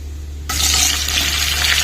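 Bitter gourd pieces dropped into hot oil in a pan break into a sudden loud, bright sizzle that carries on steadily and close by, with no voices.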